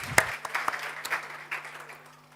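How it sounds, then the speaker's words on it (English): Audience claps at a seminar on clean audits and governance, scattered and thinning, with a few sharp claps standing out and a low steady hum underneath. "Round of applause once again for Tsweleli."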